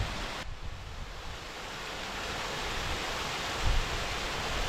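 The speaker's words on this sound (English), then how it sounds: "And a nice surprise, I didn't realise there was going to be a waterfall." A waterfall on Oakencliff Brook in the West Yorkshire hills gives a steady, broad rushing roar close to the microphone, continuous and even throughout, with a brief low wind bump near the end.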